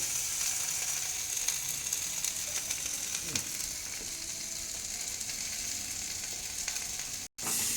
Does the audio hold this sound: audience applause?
no